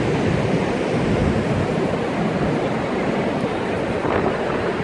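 Niagara Falls roars as a loud, steady wall of rushing water and spray, heard up close without pause, with wind buffeting the microphone.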